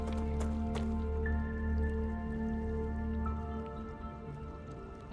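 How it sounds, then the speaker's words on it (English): Water dripping in the video game Star Rupture: a couple of bright drip tones ring out over a steady low hum of game ambience, moderately loud with no talking. "Is that water?"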